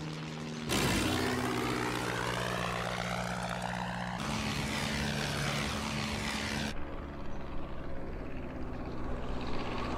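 A propeller airplane roars loudly and steadily throughout, its drone holding close and constant with shifting engine tones as it lands, no voices heard.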